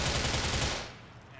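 Gunfire from a gun in Grand Theft Auto IV roars loud and dense, a continuous rapid volley that fades into a decaying echo after about a second.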